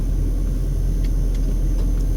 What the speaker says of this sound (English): I'm just going to wait for the traffic here.